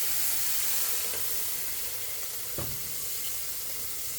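A Mexican pizza steams and sizzles on a Blackstone griddle, a steady loud hiss of frying with a brief sharp burst of steam partway through, no voices.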